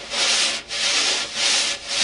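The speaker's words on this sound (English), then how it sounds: "Notice how the ring of the brush comes out of my hand as I come around." A wire drum brush sweeps continuously in circles across a drum head during a right-hand brush technique lesson, making a steady, close, breathy swish that dips briefly about every half second as each stroke comes around, with no talking.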